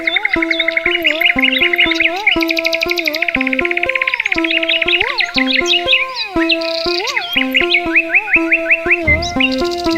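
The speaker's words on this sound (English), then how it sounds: "we got the birds." Birds chirping and singing, bright tweets and trills layered over a steady synthesized melody of looping tones, loud and continuous throughout.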